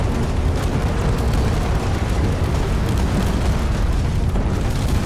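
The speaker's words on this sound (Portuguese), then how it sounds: "Acho que alguma coisa explodiu muito grande agora" A huge explosion tears through a ship during combat in the space video game Space Engineers. It fills the clip as a loud, continuous, dense roaring rumble with no break and no talk.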